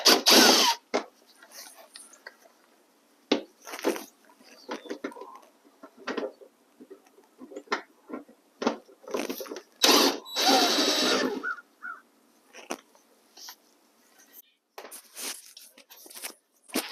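A DeWalt drill with a Phillips bit backs screws out of the front bumper cover of a 2022 Honda Civic, heard as short close whirring bursts separated by pauses and small clicks and handling knocks.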